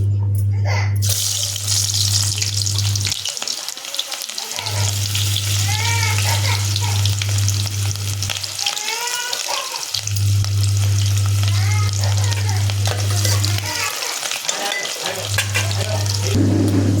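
Chopped onion frying in plenty of hot oil in a home kitchen pan, a steady loud sizzle with a low hum that cuts out briefly three times.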